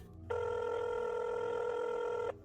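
A telephone rings once in a steady, continuous electronic tone lasting about two seconds, clear and fairly faint over a quiet room, alone without talk.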